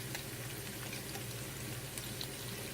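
Oxtail pieces browning in a pot give off a steady, dense sizzle and crackle of hot fat, close and unbroken throughout.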